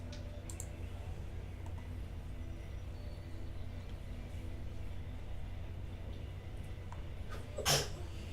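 A single short sneeze bursts out near the end over a low, constant background hum.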